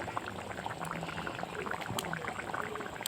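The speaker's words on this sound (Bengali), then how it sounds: "এই যে অল্পটুকু জল দিলাম" A little water added to a simmering curry in a pot: a continuous bubbling, liquid hiss close by with small pops and splashes, steady throughout and without speech.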